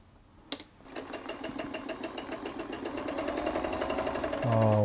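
An Elna 1 Grasshopper sewing machine stitches steadily after a brief knock at the start, its fast, even whir building slightly louder toward the end, with no talk over it.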